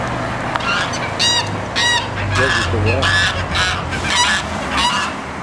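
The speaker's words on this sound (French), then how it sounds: "Donc ici il y a des oies" Geese honk repeatedly in a noisy chorus, loud and close, with a brief spoken remark mixed in among the calls.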